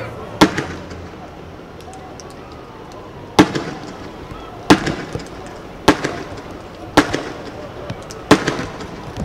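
Sharp, loud blasts of grenades go off at a street protest, six distinct bangs spaced a second or two apart over a steady crowd murmur.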